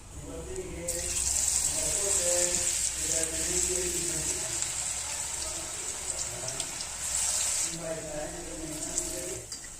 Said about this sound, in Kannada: ಕಾದ ಎಣ್ಣೆ ಬಾಣಲೆಯಲ್ಲಿ ಬಿಡ್ತಾ ಹೋಗಬೇಕು